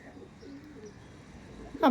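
Rampuri pigeons coo softly in a loft, a few low murmuring calls close by in a quiet space, ending with a sudden louder rustle or bump.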